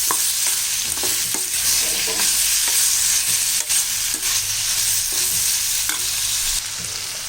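Tomato, onion, salt and turmeric sautéing in a pan, a steady close sizzle with repeated scraping stirs of a spoon through the mixture, no voices.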